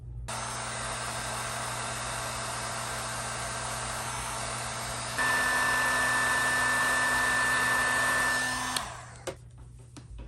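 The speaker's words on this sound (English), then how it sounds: "Be careful where you set your heat gun" A heat gun blows with a constant whirring roar while shrinking heat-shrinkable ring terminals during a Garmin Livescope Panoptix install. The tone steps up to a louder setting midway, then it switches off and winds down near the end. Nobody speaks.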